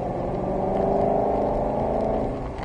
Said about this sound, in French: On freine, on rétrograde, filet de gaz.